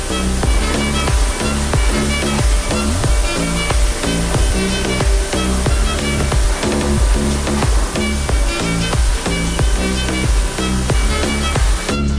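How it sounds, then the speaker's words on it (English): An automatic car wash machine blasts high-pressure water over a car, a loud continuous rushing spray like a waterfall that holds steady throughout with no talk. "The fourth step, high-pressure flushing."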